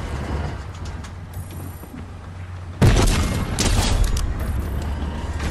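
A loud, sudden blast from a tank cannon in a video game cuts through steady low rumbling engine noise, followed by a sustained roaring aftermath; no talking.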